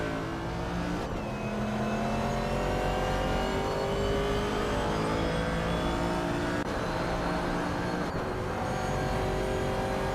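Race car engines in a racing video game, several cars screaming and shifting with rising and falling engine pitches layered together, loud and continuous with brief gear-change breaks, no speech.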